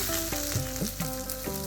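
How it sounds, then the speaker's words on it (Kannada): Dried red chillies and curry leaves frying in hot tempering oil for a South Indian rice-water saaru, a steady close sizzle and crackle with a few sharper pops and stirring, no talk. "ಬರೀ ಒಣಮೆಣಸನ್ನು ಹುರ್ಕೊಂಡು ಚೆನ್ನಾಗಿ ಇದು ಒಣಮೆಣಸು ಫ್ರೈ ಆದ್ರ ಮೇಲೆ ಇದಕ್ಕೆ ಸ್ವಲ್ಪ ಕರಿಬೇವಿನ ಸೊಪ್ಪು ಹಾಕಿ ಚೆನ್ನಾಗಿ ಫ್ರೈ"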